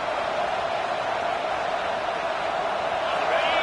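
A big stadium crowd roars at a college football game between Georgia and Tennessee, a dense, steady wall of distant cheering and noise sustained without a break.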